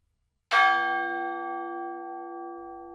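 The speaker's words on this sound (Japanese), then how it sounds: "鐘を打つ。" A single bell struck once, ringing out with a sharp attack and a long, clear, sustained tone that slowly fades, heard alone in near silence.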